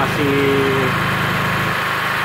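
A genset idles steadily while a MIG 160 welder runs with no load, a loud even low engine drone with a pulsing rhythm close by, and a voice speaks briefly over it near the start.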